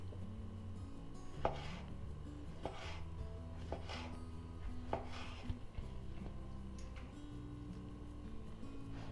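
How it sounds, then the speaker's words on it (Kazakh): Knife chopping salad ingredients such as tomato on a board, with a few distinct sharp chops spread out over a steady low background hum; no voices. "Алдымен барлық ингредиенттерді видеода көрсеткенімдей турап аламыз"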